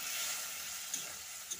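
Fish curry gravy boiling in a pot, a soft continuous bubbling hiss with two small pops, quiet and heard alone.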